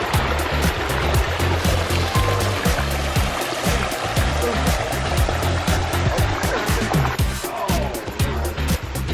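Water from two backyard koi pond biofalls pours and splashes continuously, a loud, close, steady rushing stream with no talking.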